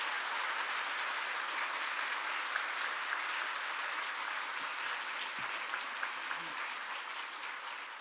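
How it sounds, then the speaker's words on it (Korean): Church congregation applauding to welcome a pastor at a special dawn prayer service, sustained even clapping from a hall full of people, moderately distant and fairly soft, with no voices over it. "우리 김영만 목사님 나오실 때 박수로 맞이해 주시면 고맙겠습니다."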